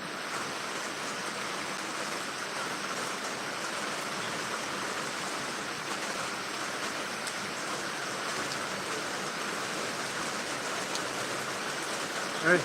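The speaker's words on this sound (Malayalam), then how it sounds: "ഇവിടെ നല്ല മഴയാണ് നല്ല മഴ" Heavy rain pours down in a steady, dense wash of noise at moderate loudness, unbroken for the whole stretch, with a faint bump at the very end.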